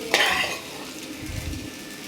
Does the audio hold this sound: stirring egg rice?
yes